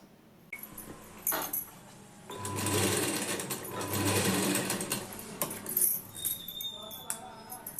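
A sewing machine stitches a blouse in steady bursts, running close and fairly loud, with short pauses and light clinks between runs and no talking.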